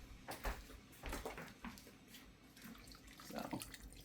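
Tap water runs into a pot for home-cooked lentil soup, faint and quiet, with intermittent splashing bursts and gurgles.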